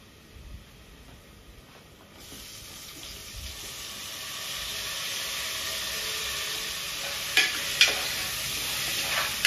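Onions and tomatoes fry in a pan, a steady sizzle that swells louder once the tomatoes go in, with a few sharp clanks and scrapes of stirring near the end and no speech.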